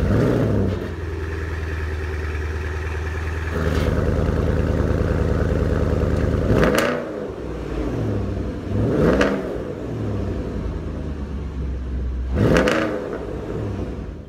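A 2015 Porsche Panamera Turbo S engine idles steadily, then gets three sharp, loud revs spaced a few seconds apart, each falling back to a low idle, heard close with no talking.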